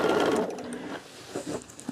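A sewing machine stitches fabric, straining as it runs along an edge: a loud, dense mechanical whir for the first second, then quieter, uneven bursts of stitching close by.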